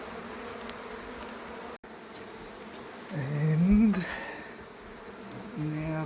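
Honey bees buzz steadily inside a beehive built within a bedroom, a continuous close drone that swells louder midway while a person briefly speaks.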